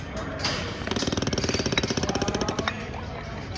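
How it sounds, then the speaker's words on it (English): A scuba regulator hisses as the air bottle is opened, followed by a rapid, rattling burst of pulses lasting about two seconds before the sound settles back into background noise. "you're gonna hear my regulator go off"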